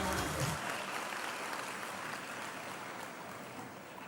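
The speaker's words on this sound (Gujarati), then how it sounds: "આપણે એમને તાળીઓ પણ ના આપી શકીએ." Audience applause for Anandiben at a Pradhan Mantri Jan Dhan Yojana financial inclusion event, a dense, steady clapping from a crowd that holds across the whole stretch, slightly louder at the start and easing toward the end.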